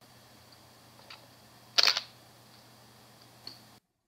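A single SLR camera shutter snaps close and sharp during a macro shoot with extension tubes, with a fainter click before it and another after, in a quiet room.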